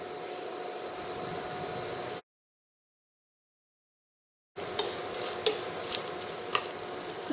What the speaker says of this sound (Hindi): मसाले भुन गए हैं।